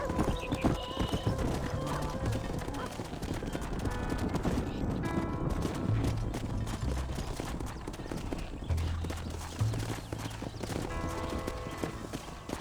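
Horse hooves clip-clop steadily at a gallop in the Western video game Red Dead Redemption, loud and continuous over a busy backdrop of music, with occasional whinnies and distant gunfire.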